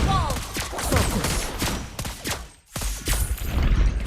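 Rapid bursts of gunfire from the Mobile Legends mobile game crackle in quick succession with brief dips between volleys, loud and close amid layered game effects.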